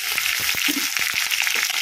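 Onions and curry leaves fry steadily in hot oil for Mangalore-style crab sukka, a dense close-up sizzle broken by a few soft stirring knocks.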